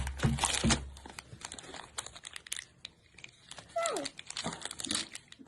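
Plastic blister packaging around Monopoly game tokens being torn and crinkled open by hand, close up, with irregular bursts of crackling, ripping and crunching and brief pauses between.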